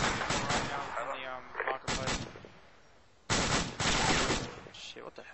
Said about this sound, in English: do short bursts of fire